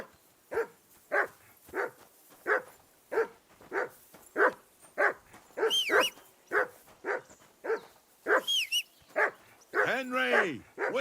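Repeated barking from a dog in the video game Kingdom Come Deliverance II, a steady run of close, evenly spaced barks with a few higher yips and a whine near the end.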